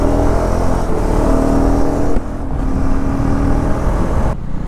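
A 2024 Husqvarna Svartpilen 401 motorcycle engine in fourth gear at about 2,500–3,000 rpm gives a loud, steady, close drone while riding, dipping briefly twice.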